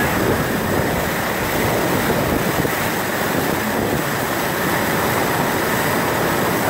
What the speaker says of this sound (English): That's a lot of water going in there.